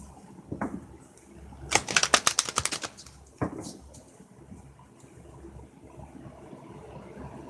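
Tarot cards riffle in quick rapid bursts of crisp flicking, a short shuffle, a pause, then another brief snap, close and fairly quiet.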